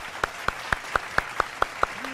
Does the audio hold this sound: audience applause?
yes